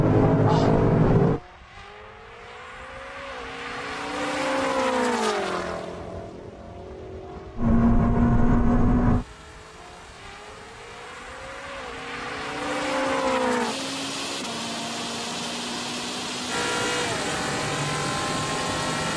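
A 1020 hp BMW G90 and a Ferrari SF90 launch side by side in a drag race, engines roaring loudly through rising gear pulls with brief shifts, ending in a steady drone.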